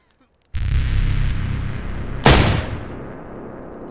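A shotgun blast in the survival game DayZ, set on the Namalsk map, hits as one sharp loud crack over an ongoing low rumbling background, then trails off into a decaying tail.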